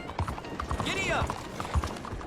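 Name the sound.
horse galloping in video game Red Dead Redemption 2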